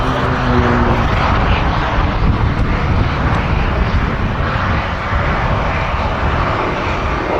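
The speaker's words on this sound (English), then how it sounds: "black and yellow checkerboard markings applied in memory of the late Ted White comes in to land" Boeing B-17G Flying Fortress bomber with black and yellow checkerboard markings coming in to land at the Duxford Battle of Britain air show, its piston propeller engines a loud, steady, close drone throughout.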